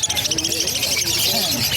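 Parakeets, including rainbow varieties offered for sale at a bird seller's, chirp and twitter continuously in a busy chorus, with faint talk underneath.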